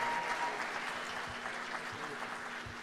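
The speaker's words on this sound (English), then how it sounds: "How about another round of applause for these wonderful musicians who are working so hard for you all night?" A film festival audience applauds for the musicians during an awards show, a steady wash of clapping at a moderate distance that holds evenly throughout the short stretch.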